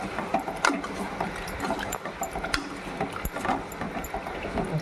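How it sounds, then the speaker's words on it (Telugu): A ladle stirs chicken curry in a pot, giving scattered close scrapes and soft knocks against the metal at an uneven rhythm, with no talking. "ఒకసారి గరిటె పెట్టి తిప్పుకుందాం."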